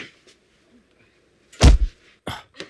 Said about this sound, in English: That's such a satisfying thud.